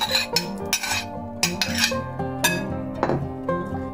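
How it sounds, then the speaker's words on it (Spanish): Utensils clinking and scraping in a bowl as broccoli, squash and egg are stirred together for an open tortilla, a close, bright series of irregular knocks and clatters with no voices. "Mezclamos bien el brócoli,"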